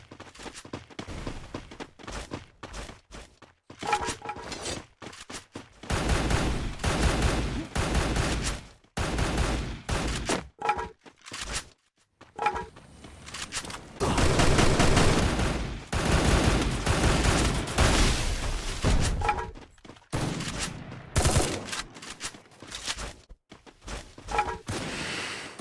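Loud, sustained bursts of automatic gunfire in an esports match of the mobile shooter Free Fire, rapid volleys with short pauses between them, dominating the mix.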